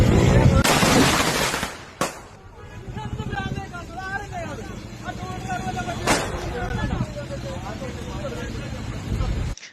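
Firecrackers burst during a street election campaign, a couple of sharp loud bangs standing out among crowd noise, shouting voices and passing vehicles.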